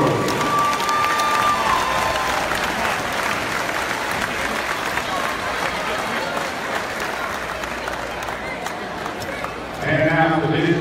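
A crowd at a girls' football awards ceremony after a district championship applauds steadily and loudly for the full stretch, a dense wash of clapping that swells slightly near the end.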